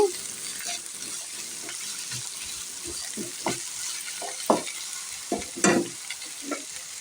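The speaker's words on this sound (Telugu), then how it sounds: "ఈ ఆలు ముక్కలు వేసేస్తున్నాను కాస్త ఆయిల్లో ఫ్రై చేసుకోవాలండి" Potato pieces frying in oil in a pan for a tomato masala curry, a continuous soft sizzle with intermittent scraping and clunking stirs that grow louder toward the end.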